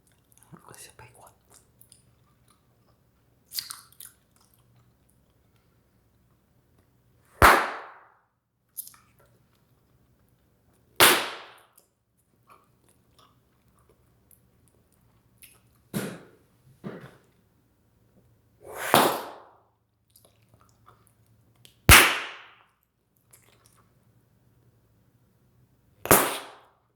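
Bubblegum bubbles blown and popped loudly, about eight sharp separate pops spaced a few seconds apart, close to the listener, with soft chewing and mouth sounds in the quiet gaps.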